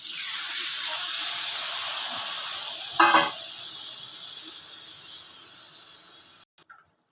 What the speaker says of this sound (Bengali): মশলাটা পুরো ভাজা হয়ে গেছে, এবার আমি ঝোল দিয়ে দিচ্ছি, অর্থাৎ এতটা পরিমাণ জল দিচ্ছি।